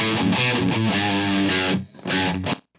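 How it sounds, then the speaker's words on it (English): Distorted electric guitars in an instrumental rock mix play thick sustained power chords, loud and continuous, with a brief drop before the final chord cuts off. "Next set of guitars, these are distorted guitars."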